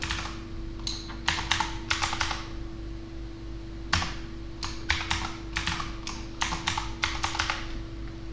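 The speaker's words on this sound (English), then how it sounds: "type your desired password" Close, crisp keystrokes on a computer keyboard as a password is entered, typed in quick clusters separated by short pauses over a steady background hum.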